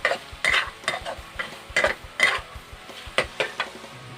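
Pork liver stir-fried with holy basil in a pan: a close, brisk run of spatula clanks and scrapes against the metal over a light sizzle, with no talking.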